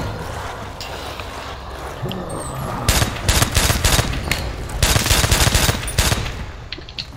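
Carbine fire in Call of Duty: World at War zombies mode, with a rapid string of game gunshots starting partway through over a low background of game sound, and no speech.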